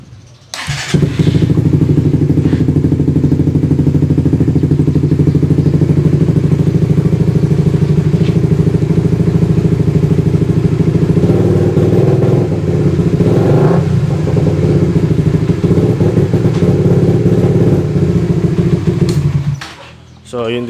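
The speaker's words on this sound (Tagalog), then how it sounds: "yung motor ko naka open pipe to ay open muffler to Tapos stock lang yung ECU. So pupugak talaga siya." A Suzuki Raider R150 FI motorcycle with an open muffler and stock ECU runs loud and close, its engine rumbling steadily with sputtering pops for about twenty seconds before cutting off.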